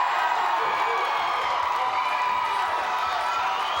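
A 1992 wrestling arena crowd roars steadily as Sting works the audience at center stage, a dense, continuous wash of cheering with whoops and scattered clapping.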